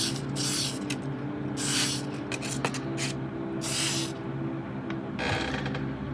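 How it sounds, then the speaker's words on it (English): Spray paint in short spritzes onto the wheelhouse of a plastic Revell model of the research vessel Calypso, several quick hissing bursts over low mechanical rattling and clicks, close by with no talk. "This is going to be just a tiny little spritz"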